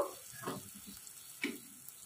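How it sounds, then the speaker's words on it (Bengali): Pointed gourd paste with fish being stirred in a pan, a faint soft sizzle with a few scraping spatula strokes, quiet and close. "এবার আমি এটাকে কিছুক্ষণ ধরে নাড়বো, যতক্ষণ না এই ভর্তাটা থেকে তেল ছাড়তে শুরু করে দেয়।"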